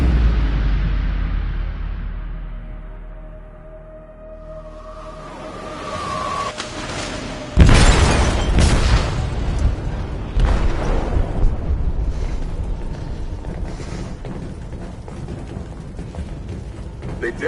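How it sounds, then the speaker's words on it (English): An explosive detonates in a ship's hold in Detroit: Become Human. A low fading rumble leads into a sudden loud, close blast around seven and a half seconds, followed by crashing debris and a long roaring, sloshing aftermath. "They detonated an explosive in the hold."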